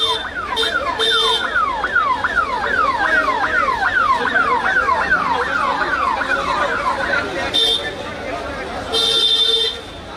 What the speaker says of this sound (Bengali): অ্যাম্বুলেন্সটা ছেড়ে দিন ভাই